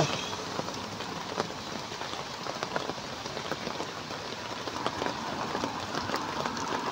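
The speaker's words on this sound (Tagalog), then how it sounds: "ang lakas ng ulan" Heavy rain pours down steadily on a highway, a dense, constant hiss of drops pattering on surfaces, loud and unbroken throughout.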